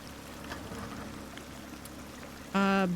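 Water pours and flows steadily in the video game DrainSim, a continuous rushing wash that fills the scene before a bright tonal sound cuts in at the end.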